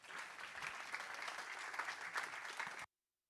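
Audience applause for a keynote speaker at a deeptech conference, a steady dense wash of many hands clapping for about three seconds before cutting off abruptly into silence.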